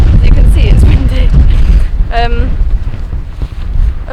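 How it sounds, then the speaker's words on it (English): Loud, gusty winter wind in the Scottish Highlands buffets the microphone with a heavy low rumble, and a voice speaks briefly partway through. "As you can see, it's windy."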